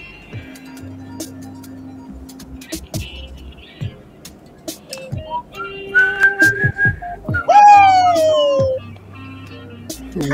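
Person whistling a few rising and falling notes, close and fairly loud, alone over a quiet background with scattered knocks and low hum.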